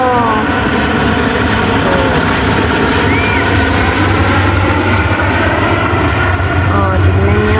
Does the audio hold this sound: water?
no